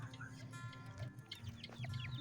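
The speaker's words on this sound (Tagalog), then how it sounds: "ito pala yung mga inahin ko, bagong inahin ito, nagalimlim ng kanilang mga itlog" Brooding hens sitting on their eggs cluck softly and repeatedly at close range, with low murmuring calls and occasional higher chirps over a steady background hum.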